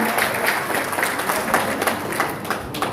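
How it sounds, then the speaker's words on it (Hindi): A crowd at an Indian civic organization's office-bearer installation ceremony claps for an honoree, a moderately loud, somewhat uneven burst of applause with distinct individual claps and some crowd murmur. "जीतू जी के लिए जोरदार तालियां"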